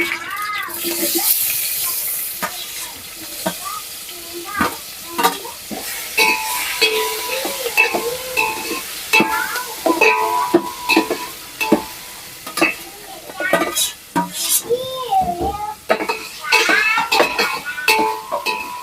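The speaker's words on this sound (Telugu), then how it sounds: "ఇది లైట్గా ఫ్రై అయిపోయిన తర్వాత ఈ పన్నీర్ ముక్కల్ని వేసేసుకుంటున్నా దీంట్లో" Paneer pieces tossed into a pan with a lightly fried base and stirred for paneer biryani: a steady sizzle runs under frequent clinks and scrapes of a spoon against the pan, close and fairly loud, with some faint voice in the background.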